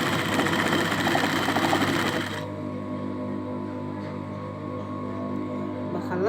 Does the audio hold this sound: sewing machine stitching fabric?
yes